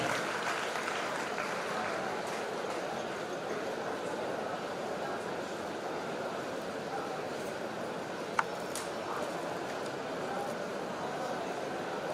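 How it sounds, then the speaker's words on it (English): A hall audience at a college annual day celebration applauds department students, giving a continuous wash of clapping that stays even and moderately distant, with one brief sharp click partway through. "Let's give a big round of applause for our CSE department students."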